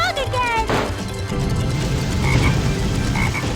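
In the Sonic Heroes video game, a frog croaks loudly in a quick rising-and-falling call over busy game sounds and music, with a voice talking briefly.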